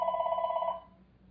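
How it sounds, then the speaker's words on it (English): A telephone rings once indoors in a craft workspace, giving a bright, steady electronic tone that cuts off abruptly after under a second, leaving quiet room noise. "Phone hasn't rang for all morning and it decides to ring now."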